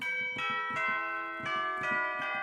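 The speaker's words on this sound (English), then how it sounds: "which is like a more traditional sounding bell riff, if you like, or chime" A traditional-style chime riff of sampled church bells rings out in quick repeated strikes, bright sustained tones overlapping at a steady, even loudness, with nothing else heard.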